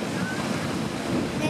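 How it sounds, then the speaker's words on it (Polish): Waves wash over a winter beach, a dense, close, steady roar of surf with wind buffeting the microphone throughout. "No teraz poczekaj, aż woda odpłynie."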